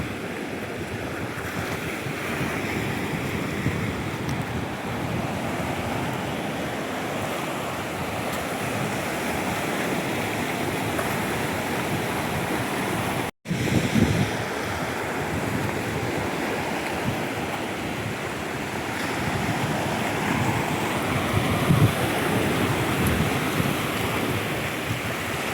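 Cold wind gusts steadily along a seashore below a hilltop Datta temple in Dapoli, with a constant broad rush of surf and breaking waves, loud and continuous apart from one brief dropout midway.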